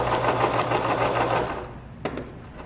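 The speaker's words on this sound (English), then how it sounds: "you pivot your fabric and then you put the foot back down and then keep sewing" Domestic sewing machine stitching fabric for a handwarmer, a steady close whirring hum that runs and then stops, followed by a couple of short clicks as the presser foot is lifted.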